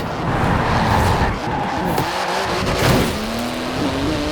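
A 3.8-litre twin-turbo flat-six with 700 horsepower and carbon-fibre bodywork drives in Forza Horizon 4, a steady close engine drone with shifting pitch and a faint tire squeal, no voices over it.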